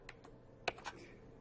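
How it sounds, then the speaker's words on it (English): Typing on a computer keyboard: a few quiet key clicks, two light taps then a sharper cluster, isolated and close with no talking. "Once you start typing, it will auto-complete for you"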